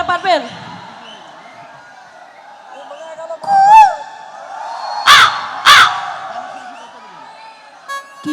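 People in a crowd at a devotional song performance imitate a crow's caw, giving several short harsh cawing calls spread across the stretch, with loud bursts of noise in between.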